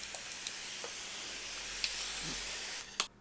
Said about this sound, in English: And then just spray the bread